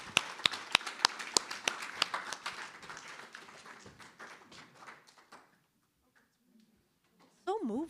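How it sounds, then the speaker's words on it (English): Audience applause at a faculty presentation: a few loud, distinct claps and taps at the start swell into general clapping that thins out over about five seconds, then near silence until a voice begins talking at the end. "How about some more applause for Cecilia Ruiz?"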